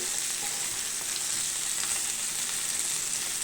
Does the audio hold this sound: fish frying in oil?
yes